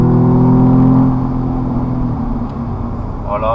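A car, an Audi fitted with a dashcam, driving slowly at about 30 km/h, giving a steady low engine hum and road rumble that eases slightly after the first second, with a faint brief sound near the end.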